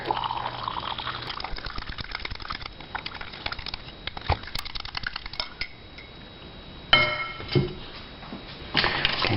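Hot water pours from a kettle into a mug, a soft continuous trickle running for several seconds and then ending with a few brief clinks and splashes.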